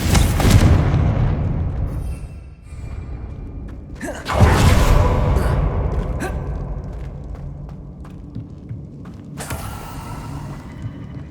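A Confringo blasting spell in Hogwarts Legacy sets off a loud, booming explosion with a long rumbling, crackling tail, followed by a second sharp blast near the end.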